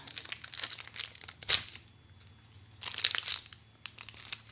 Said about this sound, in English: And if we open up the gold foil, what do we find?